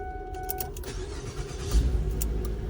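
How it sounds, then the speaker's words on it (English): A car engine with its MAF sensor unplugged cranks and catches, starting with a low whirring crank that swells into a louder rumbling start, close by and with no talk over it. "Now we have the MAF sensor unplugged and we're going to see if the vehicle starts."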